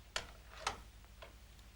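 A few soft, evenly spaced clicks tick quietly in an otherwise hushed room, like a small clock marking time.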